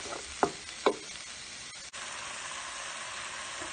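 Onions, peppers and mushrooms cook in butter in a pan, giving a soft, steady sizzle, with two quick scrapes or stirs near the start, all faint.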